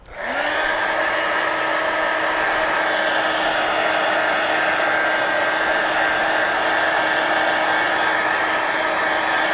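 Hair dryer blowing to dry paint on a mixed media art piece, a loud continuous whirring rush that spins up quickly and then holds steady throughout, with no voices.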